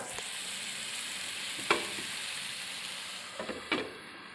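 Channa masala gravy simmers and sizzles in a pan with a steady soft hiss, broken by a few small pops and bubbles near the end.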